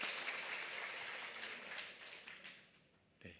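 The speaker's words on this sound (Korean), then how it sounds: "하나님께 모든 영광을 올려드리면서 다 함께 박수로 영광" A church congregation at a short-term mission report service claps together, a faint spread of applause that thins out and fades toward the end, closing with a brief louder knock or thump.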